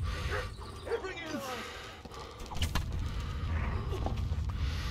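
Dog barking and yipping in the medieval video game Kingdom Come Deliverance, a few short barks and whimpers mixed with game noise while someone talks over it.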